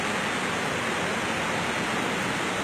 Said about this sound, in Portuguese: vamos chegar lá na cachoeira